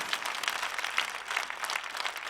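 A live TV studio audience applauds to welcome a singer on stage, steady dense clapping at moderate volume with no talking.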